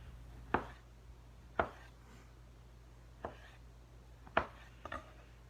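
A knife cuts through tomatoes for ceviche on a cutting board, five sharp, separate thunks spaced irregularly over a quiet kitchen hum.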